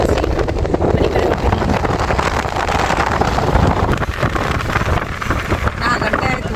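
Strong wind blows outdoors, buffeting the microphone with a loud, continuous roaring rush that barely lets up.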